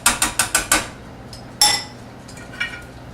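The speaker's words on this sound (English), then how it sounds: "I'm using a potato masher just to mash up a little bit some of the items." Potato masher working through fresh pea soup with ginger in a pot: five quick, evenly spaced metallic clacks, then a pause, a louder clack and a fainter one, close and dry.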